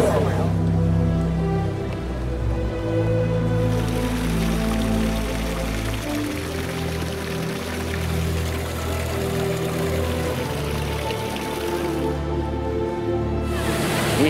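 Water splashes at a fountain in Piazza Navona, Rome: a steady, loud rush of falling water with an open-air background. It is heard without talk.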